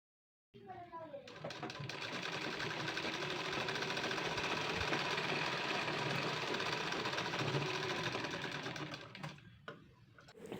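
A sewing machine runs steadily, stitching the upper sleeve to the lower waist part of a three-piece princess-cut blouse. The whirring motor sound is close and loud, running continuously for about nine seconds before stopping near the end.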